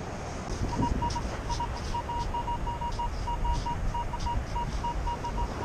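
A Minelab Manticore metal detector sounds off over a pull tab on a beach, a loud, steady series of short electronic beeps in an uneven rhythm over constant wind and surf noise.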